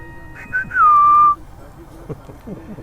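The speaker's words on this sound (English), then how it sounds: "Khoja Nasreddin gave a low whistle." A person gives a low whistle: two short chirped notes, then a longer sustained tone that fades, over quiet background with faint soft sounds afterward.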